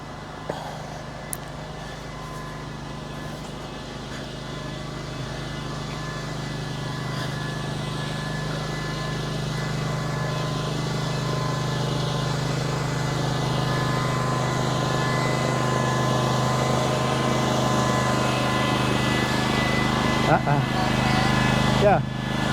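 A tractor engine idles and runs steadily, a constant low drone that grows slightly louder over time, with a couple of brief knocks near the end.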